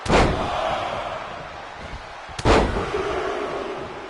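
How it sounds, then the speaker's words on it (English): Two heavy impact booms in the WWE 2K26 wrestling game, one at the start and another midway, each a sharp crash with a short decaying tail over low arena noise, as a fall-away slam lands on the mat. "Textbook fall-away slam."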